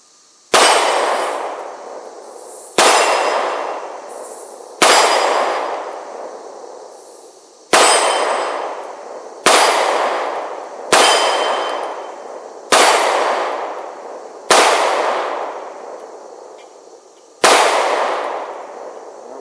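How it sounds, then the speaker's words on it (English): Nine gunshots fired at steel targets on a shooting range, each a loud sharp crack followed by a long bright metallic ring that fades over about two seconds, spaced unevenly with no talking. "let's send some rounds down range"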